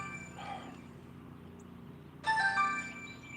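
A mobile phone rings for an incoming call outdoors on a fishing trip, a short electronic melody starting partway through over quiet background hum.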